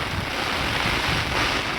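A heavy downpour with strong gusting wind makes a loud, steady roaring wash of noise, with wind buffeting close and no voices.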